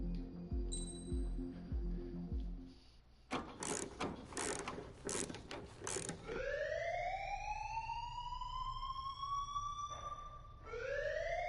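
Air raid siren in the video game Ace Combat 7, Mission 5: clicking, ratcheting mechanical noises and bursts, then a siren winds up and wails in long rising tones that hold and start again.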